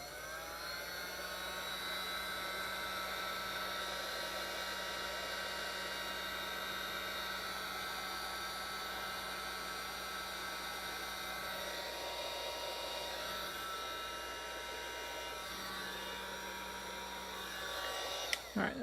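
A hot air gun blows steadily as it melts heat shrink tubing during a 7-inch long-range FPV drone build, a close, continuous whooshing whine with a low motor hum that holds for most of the stretch before a click at the end.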